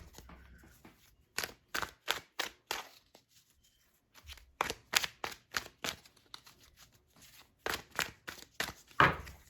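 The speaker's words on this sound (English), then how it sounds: "I'm going to put these all back in. And I'm going to shuffle out a spread." Tarot cards being shuffled in short bursts of quick riffling slaps, close and clear, with brief pauses between rounds and no talking.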